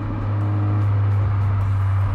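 Low, steady exhaust drone from a 1.6-litre Kia Forte GT as the throttle is released, a deep rumble with faint burbling crackles at the tail end, loud and continuous with no speech.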